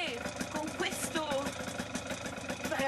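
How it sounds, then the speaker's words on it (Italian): A paramotor engine runs at a lakeside launch site before takeoff, a steady mid-pitched idling drone with a faint rhythmic knock, heard beneath voices talking nearby. "parapendio a motore."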